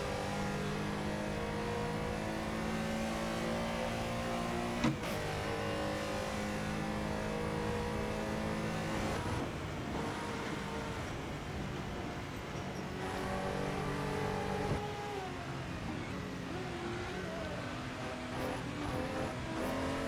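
A classic race car in a racing video game set at the 1967 Circuit Zolder drones and revs continuously, its engine note rising and falling through gear changes with a brief sharp blip partway through.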